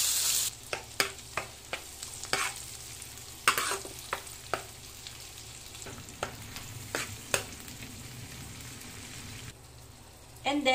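Ground beef frying with garlic and onion in a pan, a steady sizzle punctuated by repeated spatula scrapes and taps, with a brief louder burst at the end.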